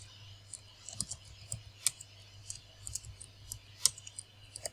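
Light, crisp computer mouse clicks come in a scattered series of single taps, close and quiet, against a faint steady hum with no voices.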